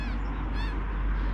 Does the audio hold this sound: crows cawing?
yes